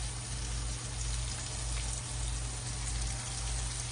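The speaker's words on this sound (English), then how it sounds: "I'm also gonna add my fat, which I'm gonna use a little bit of bacon grease. A little bit of butter." Bacon grease and butter sizzle in a hot pan, a steady dense frying hiss that holds evenly throughout with a faint low hum beneath and no talking.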